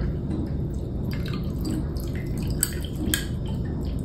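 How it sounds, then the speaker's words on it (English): Aeropress coffee is poured over an ice block in a drinking cup, giving a steady close trickle and splash, with a couple of sharp ice clinks near the end. "put a ice block inside of our drinking cup and simply pour over."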